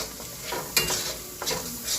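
A spoon stirs fried egg through a spicy egg masala in a pan, with soft scraping strokes and clinks over a low, steady sizzle.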